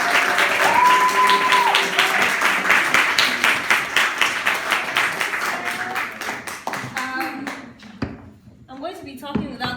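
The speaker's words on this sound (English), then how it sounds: "can we give a round of applause for" A seated audience at a talk claps warmly in a dense, lively round that thins into scattered individual claps toward the end, with voices and a brief tone sounding over it.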